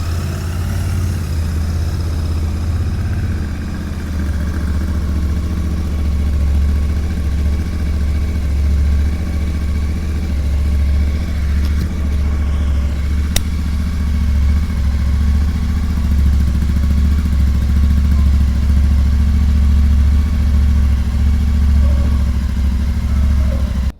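A 2024 Royal Enfield Interceptor 650 twin idles after a cold start, with a loud, close, steady low thump and a light mechanical clatter for the whole stretch.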